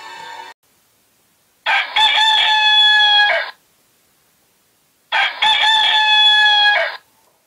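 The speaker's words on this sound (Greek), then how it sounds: "το ξύπνησε ο κόκορας." A rooster crows loudly twice, each long bright call ringing out alone with a pause between them.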